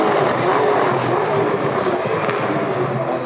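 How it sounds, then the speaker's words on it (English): A Toyota Supra V8 Supercar races along a track at the Adelaide Grand Final, its engine a loud, rough roar heard from trackside for a few seconds with crowd noise. "That is the 2026 Toyota Supra out on the track. So that is the V8 supercar Toyota Supra."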